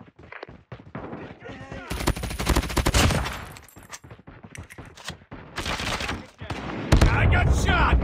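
Bursts of automatic rifle fire and sharp gunshots crackle through a Call of Duty match, loud and close, with game effects and voice lines in between.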